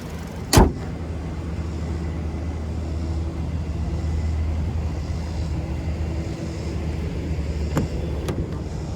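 A 2022 Hyundai Santa Fe SEL with a 2.5-liter naturally aspirated four-cylinder idles with a steady low hum, starting with a sharp click or thump and a couple of faint knocks later, with no talking.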